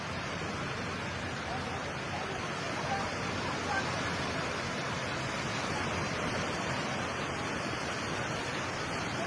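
After a magnitude 7.6 earthquake in Davao Oriental, seawater rushes back toward the shore in a steady, dense roar of surf that fills the whole stretch, with faint voices underneath.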